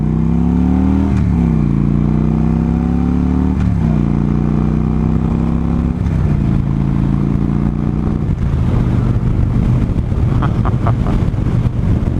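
2015 Victory High Ball motorcycle engine under way, droning loudly and rising in pitch through each gear before dropping at several shifts, with strong wind buffeting throughout and no talk.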